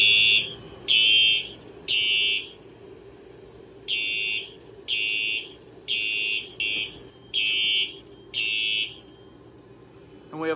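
A Silent Knight SK-2 fire alarm system set off by pulling a T-bar pull station sounds loud, bright, repeating buzzer blasts in evenly spaced pulses, with a short pause partway through before the pattern resumes.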